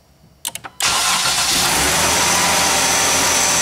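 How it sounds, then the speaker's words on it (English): A Dodge or Chrysler vehicle's starter cranks in a few quick bursts before the engine catches and settles into a loud, steady idle, heard up close with no talking. "So go ahead and start up the vehicle."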